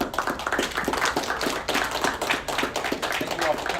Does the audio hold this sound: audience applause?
yes